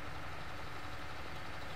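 A tractor engine in Farming Simulator 19 drones along at a steady low rumble, moderately loud and unbroken, with no voices.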